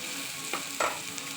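Spices sizzle in hot oil as a tempering for chole, a steady close crackling hiss with a couple of brief louder bursts as the pan is stirred.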